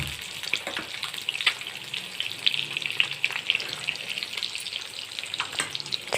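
Eggs sizzle steadily in hot oil in a bowl while a spicy biryani is being cooked, giving a continuous close crackle with small pops and no voices.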